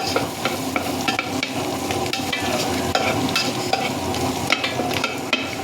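Chopped ginger and garlic sizzle steadily in hot oil in a pan while cooking pakbet with pork, a continuous frying hiss broken by light stirring scrapes and ticks.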